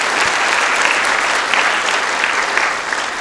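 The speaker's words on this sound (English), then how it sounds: "let's give them a quick round of applause" Loud, steady applause from the audience at a school sophomore awards assembly, a dense continuous clapping that fills the room with no pauses throughout.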